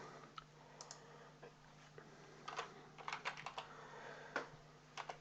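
Typing on a computer keyboard while entering shape text in Microsoft Visio, sparse soft key clicks early on, then a quicker cluster of louder taps and a few final presses, close and quiet.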